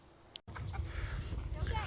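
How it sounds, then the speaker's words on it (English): Chickens cluck and squawk in scattered bursts while farmhands catch them to move them to a fall garden, under a low rustling background, with a voice talking over them. "We got the boys catching the chickens right now."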